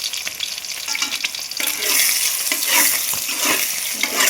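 Chicken pieces frying in a pan for chicken fried rice hiss loudly and steadily at close range, broken by repeated scraping knocks as a spatula stirs them.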